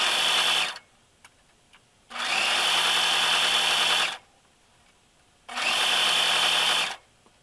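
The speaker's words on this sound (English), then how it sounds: "now we're going to sew our little bitty top tier to our nice and ruffled bottom and middle tiers" A sewing machine joins the tiers of a petticoat in three loud, steady bursts of fast stitching, separated by short near-silent pauses.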